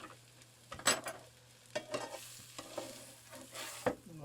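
A bacon, egg and cheese sandwich toasts in a pan with a quiet sizzle, broken by a few close scrapes and clicks of a utensil against the pan.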